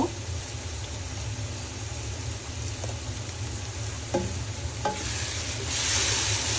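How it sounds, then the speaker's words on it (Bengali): Chili powder and spices being stirred into frying onions in a pan, a steady loud sizzle with scraping stirring strokes throughout, swelling louder toward the end. "ভালো করে নেড়ে মশলা আমি পেঁয়াজের সাথে মিশিয়ে নিব"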